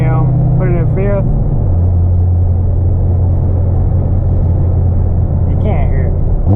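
A 650-horsepower supercharged Corvette cruising in fifth gear at low RPM, a loud, steady engine drone and rumble heard from inside the car, with someone talking over it.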